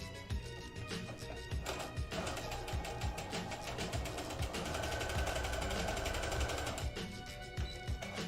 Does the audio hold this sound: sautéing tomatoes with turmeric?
no